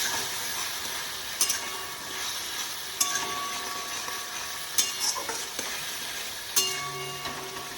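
Dry chili, cumin and fennel powder stirred into a frying pan while cooking chanar bora, giving a steady close sizzle with scraping spoon strokes at intervals and no talk.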